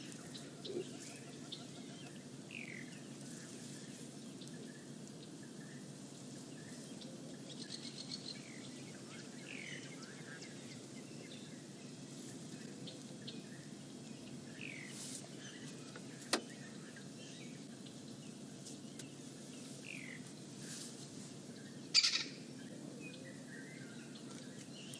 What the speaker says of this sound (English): The birds that have just come around here, there must be a lovely food party